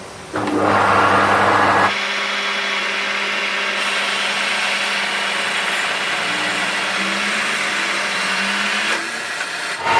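A power drill reams out a hole in a handmade fuel tank cap, with a loud, steady motor whine that runs for several seconds without a break. A brief, rougher burst of cutting comes at the start.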